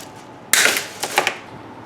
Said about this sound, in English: cut that with my amazing dikes